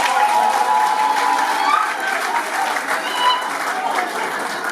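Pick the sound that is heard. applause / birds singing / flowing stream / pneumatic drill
applause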